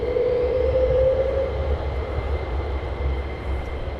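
A fighter jet departs RAF Lakenheath as a steady, loud roar that holds throughout with a broad low rumble and a drawn-out whine, no voices present.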